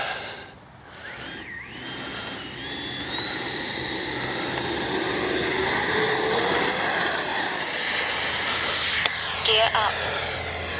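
A Freewing 90mm Zeus 6S RC jet's ducted fan spools up with a rising whine and holds a loud, steady roar as it takes off, with a few faint words of talk partway through.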